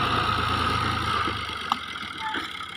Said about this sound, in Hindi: चार सौ अस्सी ट्रैक्टर